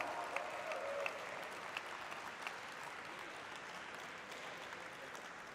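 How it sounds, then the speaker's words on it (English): Sustained audience applause fills a company listing ceremony, a steady broadband wash of clapping at moderate level with a few sharper claps standing out early, continuing without letup. "Keep the applause going, keep the energy going, ladies and gentlemen."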